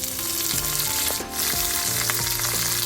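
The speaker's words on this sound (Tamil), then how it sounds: "எண்ணெய் சூடாயிட்டுது. கடுகு சேர்ப்போம், பெருஞ்சீரகம், வெந்தயம் சேர்ப்போம், அதோட சின்ன சீரகம், கருவேப்பிலை கொஞ்சம் சேர்ப்போம்." Mustard seeds, fennel, fenugreek and curry leaves sizzle loudly in hot oil for a fish kuzhambu, a dense and steady frying hiss with faint clinks as a spoon stirs the pan.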